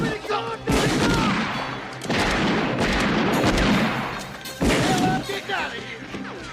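Gunfire in a western comedy shootout: several loud, sharp shots and crashing bursts at irregular intervals, close and harsh, with shouting voices between and over them.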